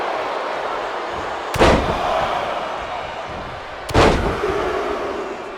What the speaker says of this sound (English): Oh, look at that scope slam.